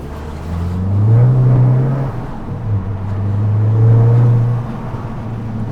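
A Mk7.5 Golf GTI with its exhaust backbox deleted revs in two deep, throaty swells, each rising and falling in a loud, close drone with a lingering rumble between them.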